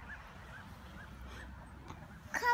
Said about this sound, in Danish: Prøv at se alle de fugle, der er kommet.